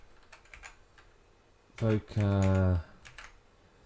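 Someone types a search on a computer keyboard, with a few quick, light clicks close by. A voice speaks briefly over them.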